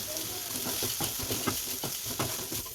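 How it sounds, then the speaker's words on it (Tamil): A beef gravy with roasted masala is sautéed in a pan, giving a moderate sizzle broken up by quick, repeated stirring scrapes at close range. "இந்தளவுக்கு நல்லா வதக்கிட்டோம்"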